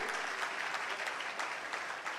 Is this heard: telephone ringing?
no